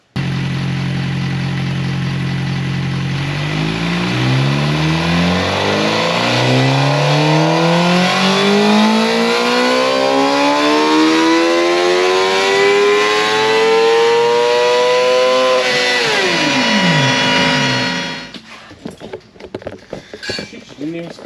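A 2023 Suzuki GSXR 600 with a cat delete runs on a dyno, its engine climbing through the gears in a long, loud, rising wail before cutting off into a brief fading wind-down.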